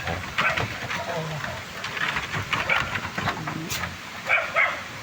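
A dog barks a few times over a busy outdoor background, with people talking nearby.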